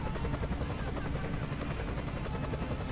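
Helicopter in the Emergency 2016 video game, a steady, loud rotor drone that continues unbroken throughout with no pauses.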